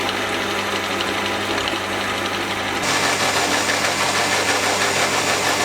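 A lathe gearbox grinds and whines continuously nearby, an abnormally noisy, dense mechanical rumble with knocking undertones that grows slightly louder partway through.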